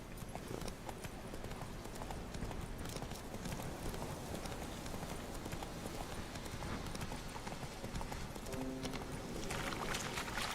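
Horse Roach's hooves clip-clop steadily in The Witcher 3: Wild Hunt, a continuous rhythmic trot beneath dense background game sound, with no voice on top.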